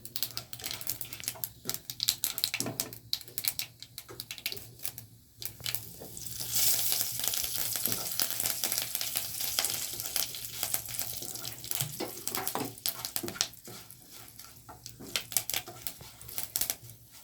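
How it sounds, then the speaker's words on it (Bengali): Whole dried red chillies, cumin, mustard seeds and bay leaf sizzle in hot oil, a steady crackling hiss with scattered sharp pops and spits running throughout, close by and fairly loud. "তাহলে আমার শুকনো লঙ্কা গোটা জিরে সর্ষে ফোড়ন, আর একটু তেজপাতা, তার সঙ্গে যাবে একটু কারি পাতা।"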